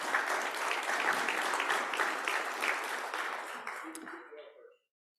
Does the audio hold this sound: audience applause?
yes